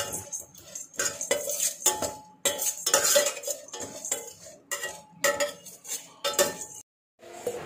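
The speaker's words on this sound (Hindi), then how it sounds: "ओट्स कुक पण्रतुक्कु मुन्नाडी वरुत्तुट्टु दान यूस पण्णनुम" A spoon repeatedly scrapes and clinks against a metal pan while oats are stirred and roasted, in quick, uneven bursts with brief pauses.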